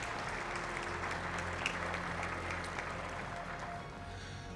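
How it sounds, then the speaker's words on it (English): Audience at a university centennial closing ceremony applauds a platinum sponsor, a sustained wash of many hands clapping, fairly soft and distant as though heard across a large hall. "Please give them a round of applause."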